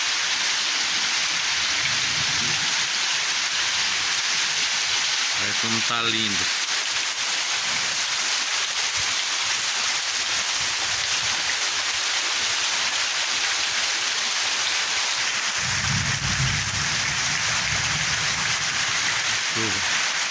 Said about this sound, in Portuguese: Muita chuva hoje